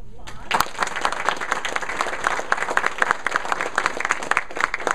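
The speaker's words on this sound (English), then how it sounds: "I think we should give them a round of applause." An audience at a family philanthropy panel breaks into a round of applause, with many hands clapping in a steady, fairly close patter after one sharp opening clap.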